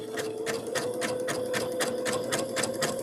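A sewing machine stitches a coiled rope bowl, its needle thumping in a quick, steady rhythm of about four strokes per second under a constant motor hum, close by and with no talking.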